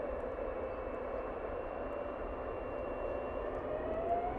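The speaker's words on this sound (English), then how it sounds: "And next will be the Jet 2 A321neo." A Jet2 Airbus A321neo with half decals departs Manchester Airport for Funchal, Madeira, a steady distant jet roar with a faint whine rising near the end, heard alone.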